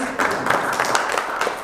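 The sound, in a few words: audience applause for Jonas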